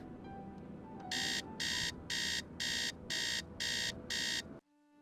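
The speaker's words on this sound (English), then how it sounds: "6 p.m. Alarm." An alarm clock rings in a Nancy Drew video game: seven evenly spaced, shrill electronic beep bursts over a low background hum, ending abruptly when it is switched off.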